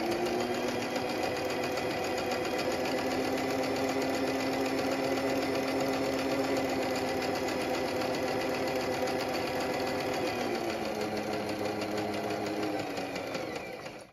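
A sewing machine stitches cloth napkins with a continuous, loud, close mechanical whir and rapid needle clatter that runs steadily, shifts pitch near the end, then stops.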